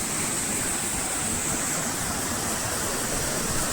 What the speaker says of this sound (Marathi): तो धबधबा बघा दिसतोय का